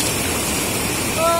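Rushing water of a mountain stream in the Falakhu river valley, Betrawati, a steady broadband wash that fills the whole moment with no pause, close and fairly loud.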